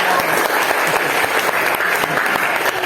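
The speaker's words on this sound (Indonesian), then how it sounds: "Terima kasih tepuk tangan buat kalian" A classroom full of students claps steadily for a few seconds, a dense, continuous burst of applause.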